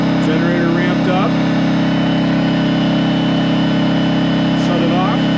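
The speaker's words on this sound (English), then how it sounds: "Generator ramped up." Harbor Freight Predator generator engine running under load from a heat gun, a steady close drone with a constant hum, with faint other sounds briefly over it.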